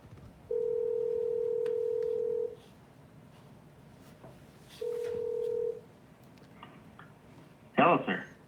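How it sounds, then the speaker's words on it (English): Steady telephone tones from a live call-in show, a long flat tone of about two seconds and then a shorter one, followed by a brief burst of voice as the call connects, with faint background noise. "Phone call."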